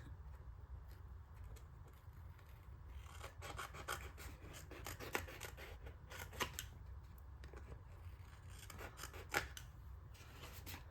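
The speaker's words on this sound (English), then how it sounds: "I'm going to trim down this edge, which I made a little bit too big." Scissors snip along the edge of a paper file folder, soft close cuts and rasping paper noise in short clusters over a low steady background hum.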